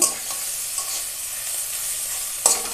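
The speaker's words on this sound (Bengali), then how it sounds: "ডিম দিয়ে তেল একসঙ্গে পেঁয়াজ লঙ্কা কুচি দিয়ে ভাজা করে নেব" Fish oil and roe frying with chopped onion and green chilies, giving a steady close sizzle with a couple of sharp scraping stirs, no voice.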